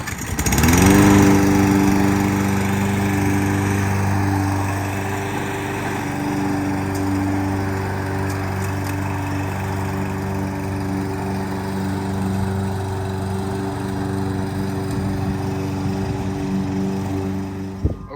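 A Toro 22-inch high wheel lawn mower starts up and runs continuously at close range, a loud, steady engine drone with a strong tonal hum throughout and no talk.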